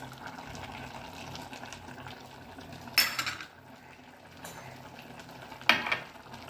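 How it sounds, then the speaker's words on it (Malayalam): Second coconut milk or plain water is poured into a pot of olan, an Onam curry, in two short splashing bursts over a faint kitchen background. "2 ഗ്ലാസ് രണ്ടാം പാലോ പച്ചവെള്ളം ഒഴിക്കണം"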